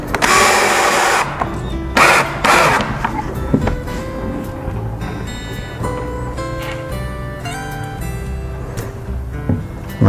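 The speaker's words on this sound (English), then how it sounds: "Line up my L bracket with the stud. Take my 5/8" screw and screw it down into the bed." Power drill driving a 5/8 inch screw through an L bracket into the wooden frame of a tilt-away Murphy wall bed, loud whirring bursts near the start, then quieter rattling and handling noise.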